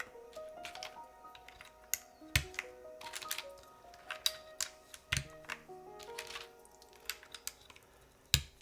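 Plastic keycaps being pressed onto a Virgo mechanical keyboard build, giving a run of sharp, close clicks and taps at irregular intervals, with a few louder snaps standing out.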